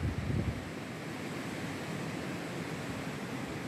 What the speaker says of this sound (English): it's kind of windy outside here